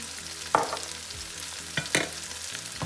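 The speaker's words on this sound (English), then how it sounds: "so our onions is nicely sauteed, and so I'll be adding some sesame oil" Sautéed onions sizzling in a pan after sesame oil goes in, for egg fried rice, a soft continuous fry broken by a few sharp scrapes and knocks of a utensil against the pan, no voices.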